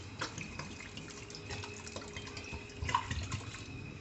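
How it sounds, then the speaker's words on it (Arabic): Water splashes and trickles softly as couscous grains are rinsed by hand, with scattered drips and sloshes that grow a little busier toward the end, close but quiet. "غادي نغسلوها. عندي الماء هنايا"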